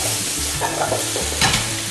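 Eggplant and spiced vegetables fry in a pan, a continuous sizzle broken by soft scraping stir strokes and a louder burst of crackle near the end, close and without talk.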